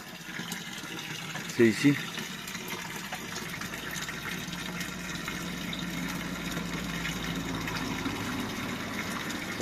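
Water runs steadily from a tap at an outdoor water point, a constant gushing hiss that fills the whole stretch, with someone speaking briefly near the start.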